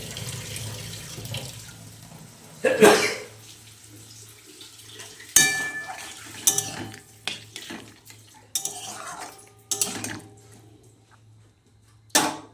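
Water is poured into a pot of beetroot and carrot curry, followed by scattered clinks and scrapes of a spoon stirring against the cookware, with no voices.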